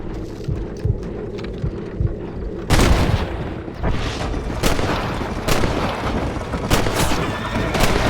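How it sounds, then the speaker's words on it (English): Gunfire in the video game Red Dead Redemption: a run of sharp, loud cracks and booms at irregular intervals over a dense, noisy background, a few shots close and heavy. "It looks like you're shooting at nothing."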